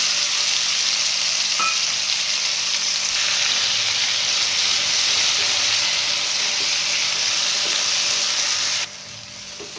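Black masala paste with mustard seeds and cumin fries in hot oil in a pan for a village-style brinjal curry, giving a loud, steady, close sizzle with faint stirring scrapes before the hiss drops off near the end.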